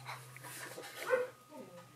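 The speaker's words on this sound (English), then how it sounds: "You hear my dog outside." A dog barks and yips from outdoors, a few short, muffled calls heard at a distance through a window while a person talks nearby.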